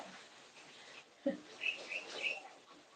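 A small bird gives a few high, thin chirps in quick succession, faint against quiet background noise with a soft thump before.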